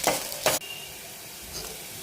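Tempering seeds hit hot oil with two quick loud bursts of sizzle, and a softer crackle lingers after them.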